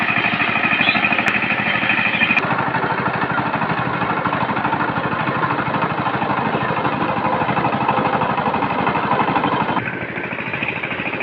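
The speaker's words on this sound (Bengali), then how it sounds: "এই যে এইভাবে পাওয়ার টিলার দিয়ে সে চার্জ দিতে হবে" A power tiller plowing a field, its engine chugging steadily and loudly at close range with a rapid pulsing beat, the tone shifting slightly near the end.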